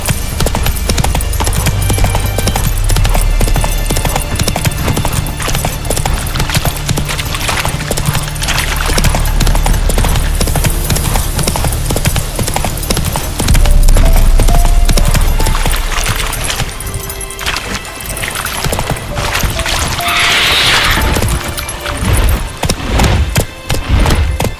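Roach the horse galloping in The Witcher 3 video game, a steady, fast rhythm of hoofbeats running throughout, with brief whinnies and scattered clatter mixed in.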